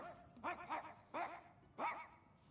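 Three separate bursts of a dog barking, or a person imitating one, from a video game, with harmonic yelps spaced about half a second apart against a low background.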